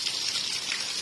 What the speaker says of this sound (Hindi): वाह, बारिश हो रही है